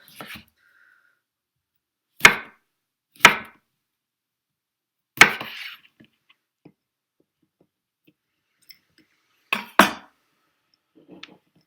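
A knife chops down through citrus fruit on a board, giving several sharp, distinct cutting clicks spaced a second or more apart, close and clear with quiet gaps between.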